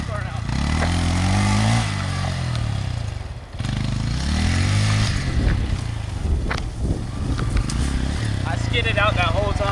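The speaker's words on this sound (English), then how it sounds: "Burning rubber now." Honda Grom motorcycle doing a burnout on a dirt surface, its small engine revving loudly in rising and falling surges close by, while people talk and shout over it.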